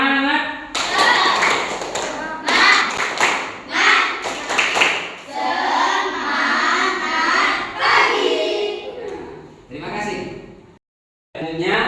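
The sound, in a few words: class doing a rhythmic spirit clap (tepuk semangat)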